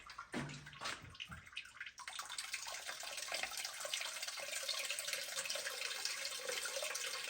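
Water from an air conditioner's condensate drain pipe pours out in a steady, close rushing splash after a brief quieter start, continuous and alone with no talk.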